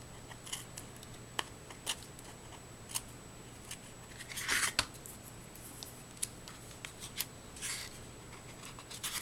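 Small scissors snip through washi tape in quiet, scattered cuts, with a brief cluster of louder rustling and snipping midway against a faint background hum.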